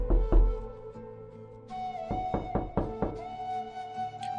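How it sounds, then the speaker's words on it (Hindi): Several sharp knocks rap on a door, a couple of isolated thumps followed by a quick run of four or five clustered raps, close and fairly loud with no voices. "तभी एक बार फिर सारा ने दरवाजे पर दस्तक दी"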